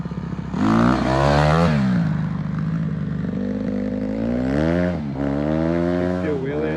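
A Honda CRF150R dirt bike with a big wheel conversion is ridden, its engine revving up and down in rising and falling sweeps, loud and close, with a voice briefly audible.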